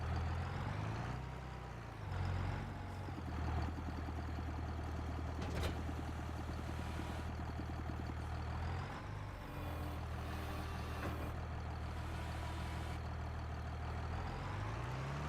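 Kenworth truck engine idling and running nearby at a logging site, a deep steady diesel rumble with a low droning hum throughout, brief dips and a sharp hiss like an air release partway through.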